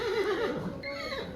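A horse whinnies in a short, clear neigh with a wavering pitch, used as a sound effect in a tabletop role-play story. It is heard alone and fairly close.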